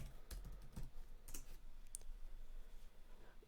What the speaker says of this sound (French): On va taper PayPal.